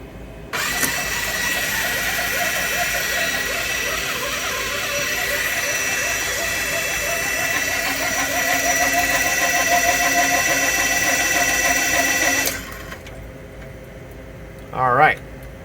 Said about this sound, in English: noisy, but it's a successful stall test